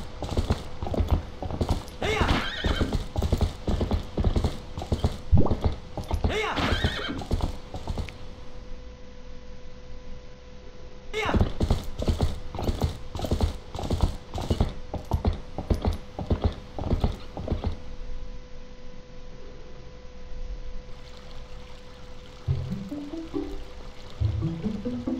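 The horse Epona gallops in the video game The Legend of Zelda: Twilight Princess HD, hooves clattering in steady fast runs that stop, start again, then fade into softer ambience with a few low tones.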